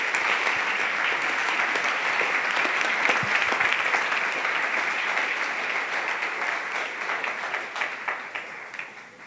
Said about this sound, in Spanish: Denle un aplauso a nuestro Rey